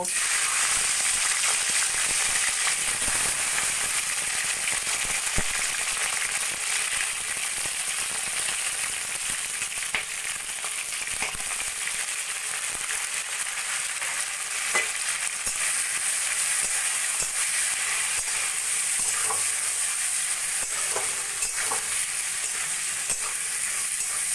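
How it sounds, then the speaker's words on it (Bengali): Prawns fry in hot oil in a wok, giving a steady, loud sizzle that fills the whole stretch, with a few faint clicks and stirring scrapes mixed in and no talking. "কড়াইতে তেল গরম করে নিয়েছি চিংড়ি মাছগুলোকে আমি প্রথমে ভেজে নেব"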